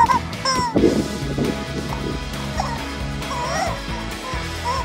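Dogs, a puppy and an older dog, bark and yelp while playing with squeaky rubber chickens, with honking squeaks and barks overlapping in a busy, close, continuous jumble.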